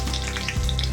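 Panch phoron spices with bay leaf and green chillies frying in hot oil, a loud close crackling sizzle that holds steady throughout, with no voices over it.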